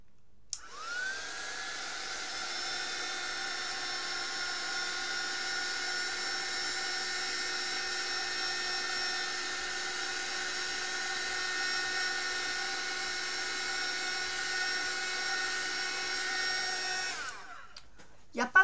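A heat gun blows continuously for about seventeen seconds while melting heat embossing powder, a steady high-pitched whining hum close by that switches on and off cleanly, with no talking.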